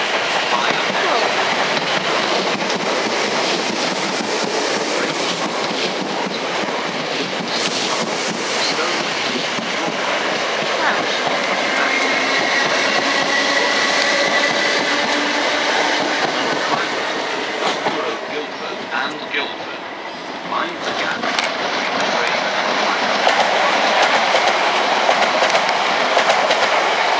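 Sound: train arriving at station platform

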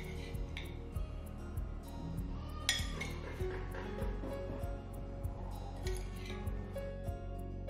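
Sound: adding steamed purple sweet potato to a dish

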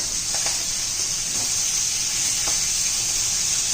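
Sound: fish frying in pan, being flipped

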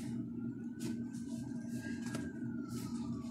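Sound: ambulance siren going by

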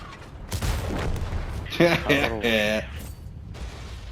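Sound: artillery fire

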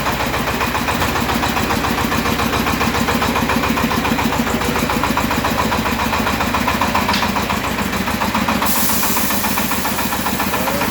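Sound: Shifeng SF-244 mini tractor engine running

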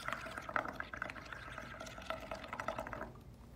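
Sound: blowing bubbles through a straw into paint water

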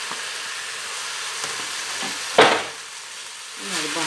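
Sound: stirring tomato sauce and parsley into eggplant filling in pan

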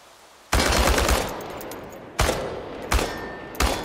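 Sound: automatic weapon firing at cans, from video game Chernobylite

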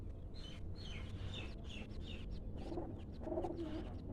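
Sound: pigeons cooing

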